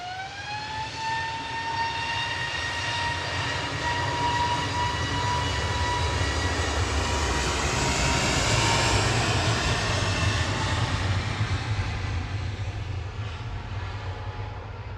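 An easyJet Airbus A320neo bound for Gran Canaria runs its engines in a sustained jet roar with a clear whining tone that swells slightly midway, heard alone without voices.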